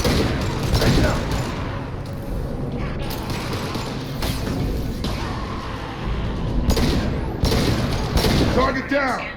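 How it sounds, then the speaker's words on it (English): Concussive shot firing in the video game Mass Effect 2, heavy booming impacts and gunfire bursts amid combat noise, with voices talking over the action. "Firing concussive shot."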